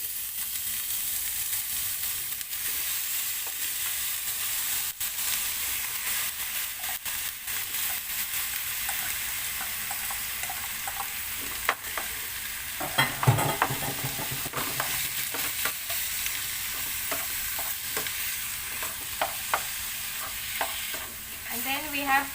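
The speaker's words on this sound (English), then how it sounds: "And then we have to brown our meat." Beef mince browns in a frying pan for spring roll filling, giving a loud, continuous sizzle. Scraping stirs grow busier in the second half, with no voices.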